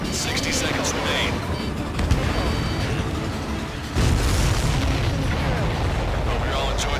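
Explosions in the Ace Combat 7 flight game: a dense, continuous rumble of booming blasts and bursts, with a heavier surge partway through, loud and close with no break.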